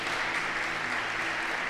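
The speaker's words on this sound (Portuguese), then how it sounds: "Uma salva de palmas aí." Packed church congregation on a Tuesday service claps together, a thick, even roar of applause filling the room at close range, unbroken and without voices over it.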